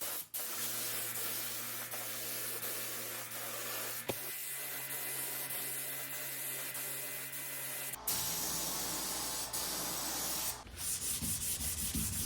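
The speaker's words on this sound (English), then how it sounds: "with 400 grit sandpaper" Steady hissing scuff sanding with 400 grit sandpaper between coats on a vintage dresser being painted white, a continuous close rubbing sound with a couple of abrupt shifts in tone.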